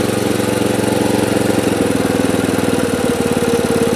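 Jompalang JSE22 7 hp gasoline engine driving a three-piston sprayer pump, starting up and then running with a loud, fast, even chugging rhythm that settles into a steady idle.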